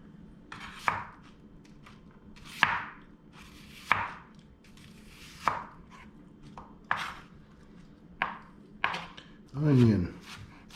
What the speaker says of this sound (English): I'm gonna cut up some celery and onions.